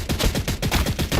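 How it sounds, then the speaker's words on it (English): Rapid bursts of Tempest Bolter gunfire from the Warhammer 40K: Battlesector video game, a loud, steady rattling stream of shots repeating several times a second throughout. "You can always use the Tempest Bolter to do some good damage to the Chaos Lord."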